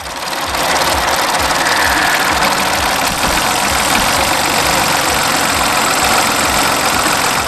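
A car engine idles with the air conditioning switched on after a new original air-conditioning belt and tensioner are fitted, a loud steady mechanical hum with a fast regular ticking pulse throughout and no talking.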